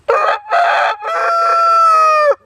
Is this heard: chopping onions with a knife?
no